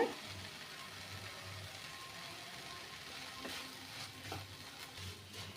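Green chilli and curry leaves frying in oil for small prawn varuval, a steady soft sizzle with a few stirring clatters near the end, no talk.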